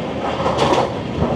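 Agartala to Kolkata Garib Rath Express running through Tripura, a steady rumble of the moving train with a brief louder swell partway through and no voices.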